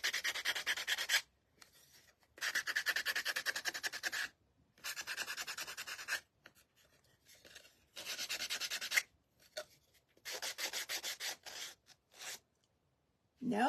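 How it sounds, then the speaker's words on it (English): A small Gator micro sander roughs up the edges of a wooden heart-stand craft piece in repeated close scraping bursts, each lasting about a second or two and separated by brief silences. "This is the little Gator micro sander."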